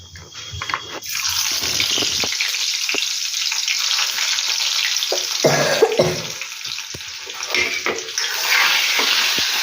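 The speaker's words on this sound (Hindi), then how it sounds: "मैं लगा रही हूँ दाल को छौंक, और ये डाली हींग।" Cumin and asafoetida crackle and sizzle loudly in hot oil in a kadhai while tempering dal, a steady bright hiss with a few sharp pops and spits, close and alone.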